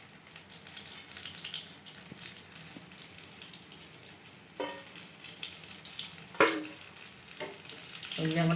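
Susiyam, a sweet Diwali fritter, fries in oil with a soft, steady sizzle, punctuated by a few sharp clinks and scrapes of a utensil near the pan.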